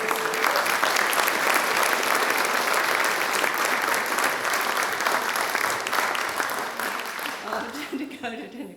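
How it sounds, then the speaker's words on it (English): Symposium audience applauding after a speaker's introduction, thick steady clapping that fades out near the end as a voice begins. "A round of applause, please, for Margaret."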